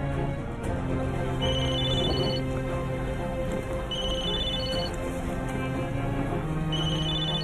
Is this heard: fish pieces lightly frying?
no